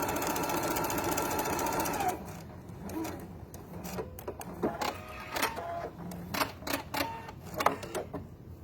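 A sewing machine stitches quilt pieces along a quarter-inch piecing line, a steady close whirring run for about two seconds, then stops, followed by light handling clicks and taps.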